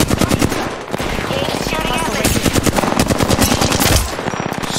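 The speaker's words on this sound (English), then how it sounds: "I heard shots" Rapid automatic gunfire in Apex Legends, a dense, loud stream of shots running almost without pause for about four seconds, with a brief gap near the one-second mark.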